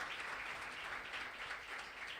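An audience at a Youth Sunday church service applauds in a steady, dense wash of clapping that holds at even strength throughout.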